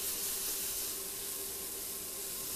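Vegetables frying in oil in a pan while being browned for a slow-cooked lamb breast dish, giving a steady, even sizzle and hiss that runs unbroken and close throughout, with no talk.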